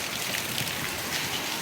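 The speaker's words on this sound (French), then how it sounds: "Il pleut." Steady rain pouring down outdoors in Australia, a dense, continuous close-up hiss of drops striking surfaces with no pauses and no voices.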